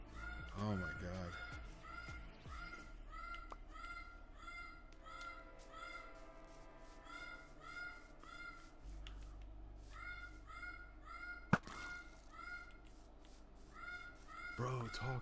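A pet bird cries out in repeated harsh, crow-like calls in bursts, close and insistent, while people talk underneath and a sharp click cuts in near the end.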